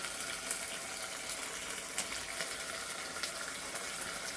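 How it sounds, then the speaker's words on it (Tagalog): Water poured into a cooking pot of soup on the stove: a steady, fairly quiet gushing stream with faint sizzling beneath and a few brief splashes, no talk. "Mag-add tayo ng water."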